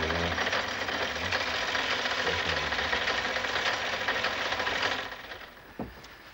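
A 1970s machine winding yarn onto pirns for Harris Tweed weaving runs with a steady, loud mechanical whir and rattle for about five seconds, then winds down, leaving a quieter hum and one small knock.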